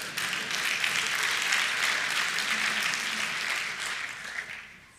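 Audience applause at a talk, a burst of steady clapping from a crowded room that swells, holds for several seconds and then fades out.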